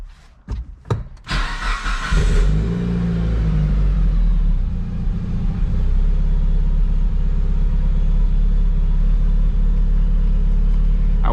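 A Mitsubishi Lancer Evolution 8 cranks briefly, then catches and roars up loudly before settling into a deep, steady idle that keeps rumbling close by without talk.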